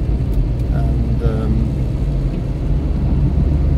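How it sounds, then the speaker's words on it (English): Steady, loud engine drone and road rumble from a cheap used car's overhead valve engine while driving, a continuous low mechanical hum without pause. "you start to begrudge things like the chatter from the overhead valve engine"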